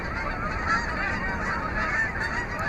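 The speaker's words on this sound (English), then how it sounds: "It's nice, the bird, eh?" A goose honks in a steady outdoor flock chorus, with many overlapping honks blending into a continuous noisy wash at moderate distance.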